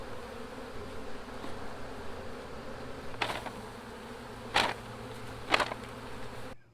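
A honeybee swarm buzzes steadily at close range as it is dropped into a hive, a faint continuous drone broken by three sharp knocks or bumps.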